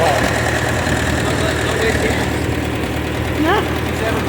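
A Ford 660 tractor engine runs at a steady, loud idle close by, its low chugging drone unbroken, while people talk over it.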